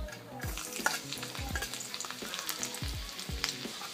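Garlic added to hot oil with cumin seeds sizzles steadily, broken by repeated low scraping stirs of a spoon against the pan, close and fairly loud with no talk.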